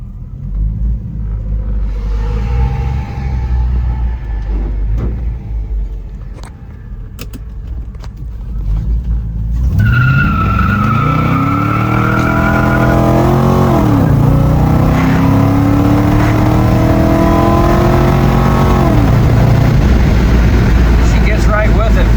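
A 1971 Pontiac T37 with an LS 5.3 V8 and 4L60 transmission drives past; a quiet interior-like opening gives way to a loud, near engine rumble that rises and falls through gear changes.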